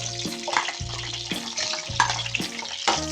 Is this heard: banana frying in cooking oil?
yes